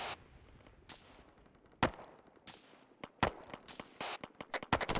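Gunfire rings out in a military training video game as scattered single shots and short bursts, sharp and loud against a quiet background, growing more rapid toward the end.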